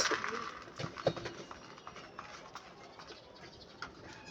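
Soft pigeon coos and rustling sounds close by, with scattered light taps and fluttering among the birds.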